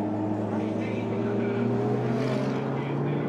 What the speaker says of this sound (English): The two cars are neck on neck, and the Maserati is trying hard to overtake the Ferrari